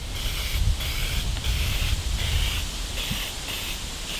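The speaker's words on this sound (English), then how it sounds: "it's time to spray." Steady aerosol hissing from a spray paint can, pulsing in a few long bursts with brief dips between them, close to the microphone, outdoors.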